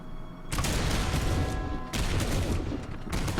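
Massed musket approach fire from a Civil War battle at Gettysburg in a strategy game, a dense crackling fusillade of overlapping shots rolling on continuously, dropping briefly before resuming at similar loudness.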